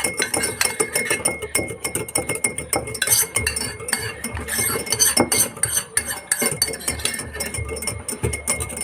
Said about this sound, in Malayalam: ഒരു സ്പൂണോ ഫോക്കോ ഉപയോഗിച്ച് നന്നായി യോജിപ്പിച്ചെടുക്കുക.